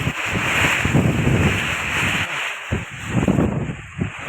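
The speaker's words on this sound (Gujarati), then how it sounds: "રાજુલામાં ફૂલ પવન છે અચાનક." Strong sudden wind before rain in Rajula, loud continuous gusting that buffets the microphone in rough surges, with no speech.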